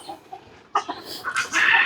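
Tiger breed chickens cluck close by in a small flock of around twenty, a few quiet clucks followed by louder, rising squawking calls.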